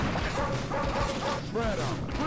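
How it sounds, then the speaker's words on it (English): Many dogs barking and yipping in the N.A.R.C. video game, a busy overlapping chorus of barks under loud game noise and someone talking. "That's a lot of dogs!"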